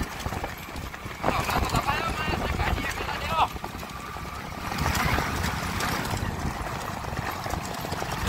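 Horse hooves clip-clop in a steady trot during a rewal chal horse race in Dhanavada, Abdasa, Kutch, beneath a busy outdoor crowd with voices and general commotion.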